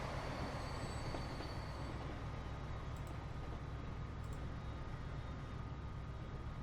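Trains from the Transport Fever game, including German and French locomotives in a diesel haulage race, rumble steadily along the rails with a continuous, fairly loud drone and a faint wheel squeal partway through.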